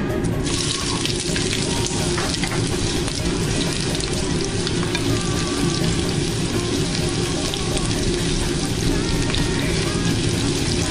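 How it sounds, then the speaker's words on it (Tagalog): Chopped onion sautés in hot oil for hototay, giving a loud, dense, continuous sizzle that stays even and close throughout. "Igigisa natin una yung onion."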